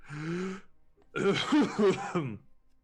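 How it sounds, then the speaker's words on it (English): A short vocal sound followed by a burst of several harsh coughs in quick succession, close and fairly loud. "That's a bad cough."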